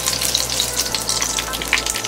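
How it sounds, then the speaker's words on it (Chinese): Vegetarian ribs pan-frying over moderate heat, a steady close sizzle with crackling spatter running unbroken throughout, with no talking. "我们先把素排骨放进去煎，勤着转着点，火不要太大"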